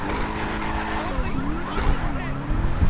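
A Bugatti sports car skids through a turn in the video game GTA 5, its tires squealing in a continuous loud screech over a revving engine roar lasting about three seconds.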